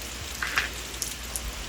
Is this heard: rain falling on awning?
yes